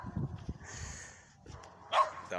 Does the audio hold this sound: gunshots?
no